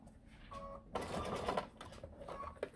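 A sewing machine stitches through a silicone oven mitt in short, quiet runs of rapid mechanical clatter separated by pauses, with the longest burst in the middle.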